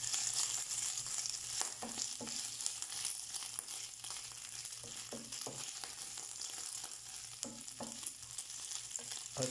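Fried rice frying in a pan, a steady close sizzle with intermittent scraping stir strokes throughout, no talking.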